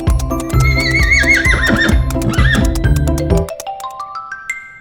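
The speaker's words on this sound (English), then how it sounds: "Here's a horse. It says neigh, neigh." Horse neighs in a loud, quavering whinny over a rhythmic musical backing with clip-clop beats, followed by a short rising chime run.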